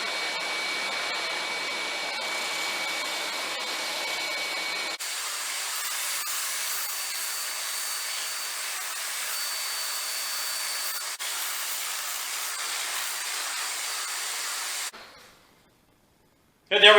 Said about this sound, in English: Now we're going to take it over to the sander, do a little sanding